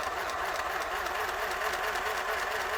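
Mini sewing machine running at high speed, a steady, fairly loud motor hum with a rapid wavering pulse, continuous throughout.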